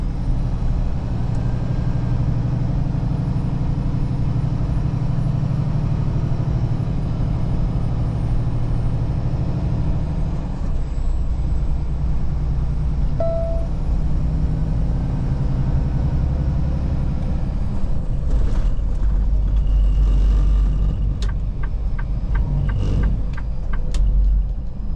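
A loaded heavy truck descends the 6% Black Mountain Pass at about 35 mph, giving a steady low engine and road rumble throughout, with faint clicks and rattles near the end and no talking.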